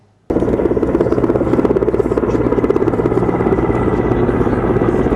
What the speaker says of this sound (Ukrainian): на гелікоптері прямісінько до Острозької академії